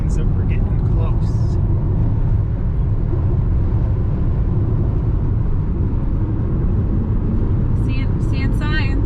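A car drives along a road on a long trip through open country, its steady engine and tyre rumble filling the whole span, with brief voices talking over it near the start and end.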